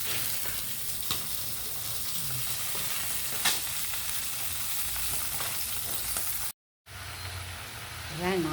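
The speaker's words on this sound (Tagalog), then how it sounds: "Piniprito natin ang ating bangos." Milkfish (bangus) frying in a pan gives a steady, fairly loud sizzle and crackle with occasional pops, broken by a brief silent gap near the end, and some faint background voice comes and goes.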